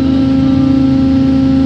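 A truck engine drones steadily at close range as the truck manoeuvres toward an excavator, a constant low hum with no breaks.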